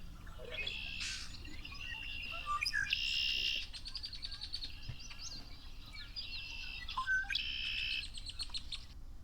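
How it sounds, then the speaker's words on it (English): Several red-winged blackbirds sing repeated trilling, buzzy calls at moderate distance, overlapping one another against a quiet outdoor background. "I love the sound of red-winged blackbirds."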